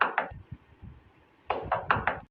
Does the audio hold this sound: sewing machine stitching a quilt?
no